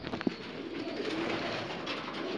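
Male pigeons coo softly in a loft, with low, rounded calls rising briefly over a quiet background hiss. One sharper note comes early on.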